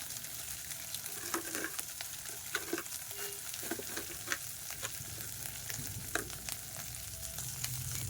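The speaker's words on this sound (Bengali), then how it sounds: "কড়াইতে লেগে লেগে যাচ্ছে তার মানে মনে হচ্ছে আমার কষানোটা প্রায় হয়ে এসছে" Masala sizzles steadily in hot oil in a wok, a continuous frying hiss broken by scattered scraping clicks of stirring, close and moderately loud with no talking.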